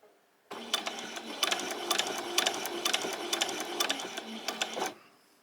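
A sewing machine stitches fabric for a handbag in one steady run of rapid mechanical clatter, starting and stopping abruptly, close and clear with no talk.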